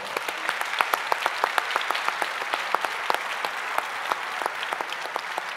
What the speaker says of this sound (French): on peut les applaudir encore très fort